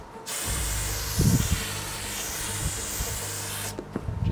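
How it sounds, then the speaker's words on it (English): An aerosol can sprays in one long continuous hiss lasting several seconds, close by, with a few faint rattles underneath. "So I'm just gonna spray some more deodorant on."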